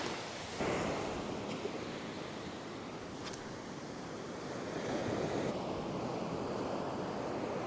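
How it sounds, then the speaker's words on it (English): Ocean waves roll in on a beach during surf fishing with lures, a steady wash of surf and wind buffeting nearby, swelling louder as a wave breaks toward the end. "Let's wait for this wave to come in."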